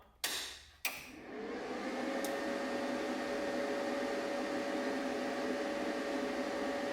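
A YesWelder MP200 multi-process welder set to MIG gives two sharp switch clicks, then settles into a steady, close fan whir with a thin tonal hum that runs unbroken to the end.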